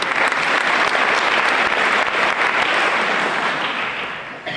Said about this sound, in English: So give yourself a small round of applause.